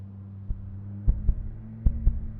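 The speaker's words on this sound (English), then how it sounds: "What's the heartbeat all to do with?" Heartbeat sound effect in a taxi driving video game: a few paired low thumps of a pulse over a steady low game drone, moderately loud with no talk.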